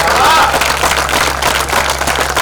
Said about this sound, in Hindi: हाथ जोड़ के एक बार तालियां